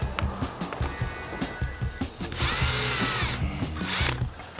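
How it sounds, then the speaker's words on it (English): A power drill bores a hole in a homemade prop's control surface in short, whining bursts, with one longer continuous run in the middle, close and fairly loud. "I need to drill a hole right here."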